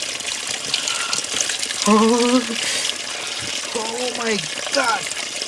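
Ice-cold water splashes and pours in bursts during an outdoor bath while camping in Manali, Himachal Pradesh, interrupted by voices talking and exclaiming over the flowing water.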